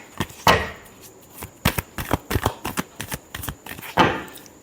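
Tarot cards being shuffled by hand in a series of crisp riffling bursts and soft slaps, with louder flurries at the start and end and quick taps between, close and alone with no talking.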